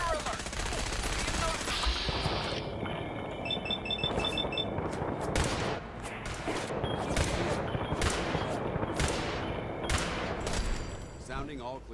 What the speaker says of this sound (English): She would follow the sounds of, well, unnecessarily high amounts of gunfire.